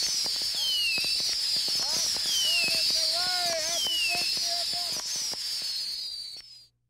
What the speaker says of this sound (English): the entire town gathered to light up the sky with an awesome display of fireworks